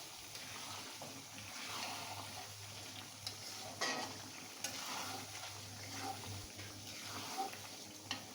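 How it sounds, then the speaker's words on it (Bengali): Ground spices frying in oil for a beef pickle, a faint, steady sizzle with occasional soft scraping and stirring clatter. "এবার লাল লাল হয়ে ভাজা হওয়া পর্যন্ত অপেক্ষা করতে হবে।"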